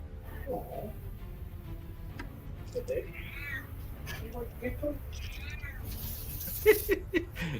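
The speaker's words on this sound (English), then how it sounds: "That cat sounds like an old cat." An old cat meowing several times, hoarse and fairly faint, over a steady background hum, with people talking around it.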